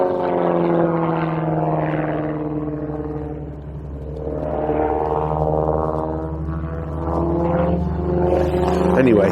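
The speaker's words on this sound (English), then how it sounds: "I've got an aeroplane up there doing some acrobatics." A propeller aeroplane performs acrobatics overhead, its engine droning loudly with rising and falling pitch as it swoops and turns, continuous throughout.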